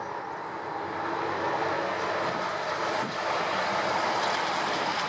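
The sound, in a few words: train passing on railway line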